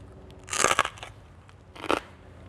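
Two crisp crunching bites into roast pork crackling, a longer crackly burst followed a moment later by a shorter one, close and fairly loud against a quiet background.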